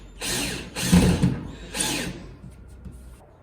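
A power drill whirs in three short bursts while screwing a Christmas tree mount's bottom plate onto a wall, close and fairly loud, trailing off into quiet.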